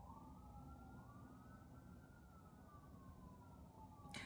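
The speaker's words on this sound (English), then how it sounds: "Sorry about the sirens." An emergency vehicle siren wails steadily outside, its pitch rising and falling in a long sweeping cycle, moderately distant and continuous, with no voices.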